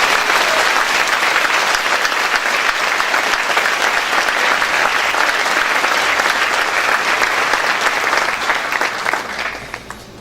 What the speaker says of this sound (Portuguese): Você pode dar uma salva de palmas para esse Deus?